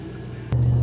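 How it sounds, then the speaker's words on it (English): A Chevrolet Silverado truck speeds down a gravel road, its low engine throb and road rumble steady, then swelling louder midway as the engine works harder, close and continuous with no talk. "So we're just flying down this gravel road now."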